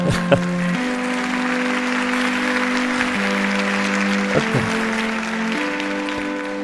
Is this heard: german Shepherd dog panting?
no